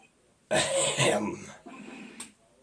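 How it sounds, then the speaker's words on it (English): Someone clears their throat close by in a short, raspy burst, followed by a quieter second rasp. "Maybe I should clear my throat."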